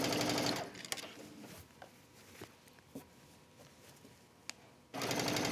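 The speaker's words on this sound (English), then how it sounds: "So I'm just going to hold it in place and keep stitching around." A sewing machine stitches a thick ponte knit wrap dress around its faced neckline, running loud and steady at the start, dropping to quiet handling with a few soft clicks, then roaring back in a fast continuous burst at the end.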